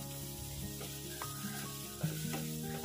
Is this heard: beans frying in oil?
yes